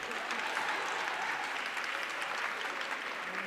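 An audience at a women's empowerment initiative launch applauds steadily, a dense, even wash of clapping that holds at a constant level throughout with no voices on top.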